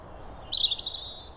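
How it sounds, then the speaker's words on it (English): A robin singing in dim winter half-light, a thin high warbling phrase that rises briefly out of a quiet background, close by but soft. "I can hear a robin."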